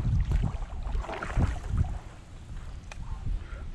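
Gusty wind buffets the microphone on open water while a person fishes swimbaits from a kayak, a steady low rumble rising and falling in loud bursts with no talking.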